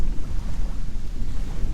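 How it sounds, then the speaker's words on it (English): Strong wind buffets the microphone at a lake at night, giving a heavy low rumbling roar that rises and falls in gusts, with nobody speaking. "Guys, it is super windy."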